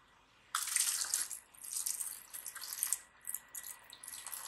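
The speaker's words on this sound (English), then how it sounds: "Lagyan natin tubig." Water poured into a seed germinating tray for moringa seeds, starting abruptly as a splashing, hissing stream that continues in uneven bursts and trickles, close and fairly loud.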